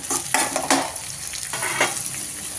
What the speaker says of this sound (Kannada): ಈರುಳ್ಳಿ ಇಲ್ಲಿ ಚೆನ್ನಾಗಿ ಫ್ರೈ ಆಗಬೇಕು